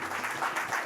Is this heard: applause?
yes